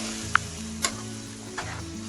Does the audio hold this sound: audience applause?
no